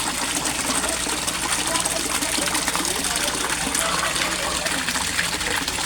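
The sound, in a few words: Aquaspeed submersible pump waterfall flowing into koi pond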